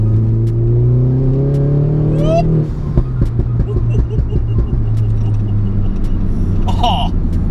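Turbocharged R56 Mini John Cooper Works with about 300 bhp, engine droning and rising under acceleration, then dropping as the gear changes and climbing again, heard from inside the car.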